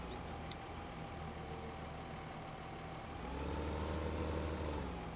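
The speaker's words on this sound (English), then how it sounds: "Mercedes-Benz tractor, the MB track." A Mercedes-Benz MB Trac tractor engine in Farming Simulator 2015 idles at a low, steady hum, quiet and even, rising slightly in the final seconds, with no talk.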